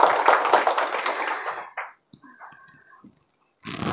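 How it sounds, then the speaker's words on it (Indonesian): Seminar audience at a parenting event gives a burst of close, dense clapping that fades out within about two seconds, followed by faint voices and a brief new surge of noise at the end. "Boleh dong sekali lagi tepuk tangan untuk kita semua"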